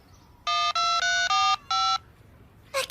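Mobile phone keypad tones sound while a text message is typed: five loud, clear beeps in quick succession, followed by a brief fainter electronic chirp.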